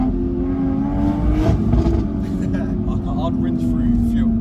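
Toyota A90 Supra with a top-mount turbo engine revving hard at close range, a loud sustained roar with rising and falling pitch, while people talk over it.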